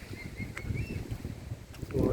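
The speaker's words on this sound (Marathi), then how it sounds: "किती सुंदर वारा, सुसाट वारा सुटलेला आहे" Strong wind gusts across an open agricultural plot with bamboo planting near a bungalow construction site in Dapoli, Konkan, a steady broad rumbling roar buffeting the microphone with no talk.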